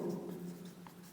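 Marker or chalk writing a maths equation on a board, a faint scratchy stroke sound lasting about a second over quiet room tone.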